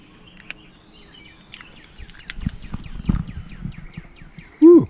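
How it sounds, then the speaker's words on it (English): Birds chirping and twittering outdoors in a quiet setting, scattered faint calls with one louder call near the end. "you can hear the birds chirping"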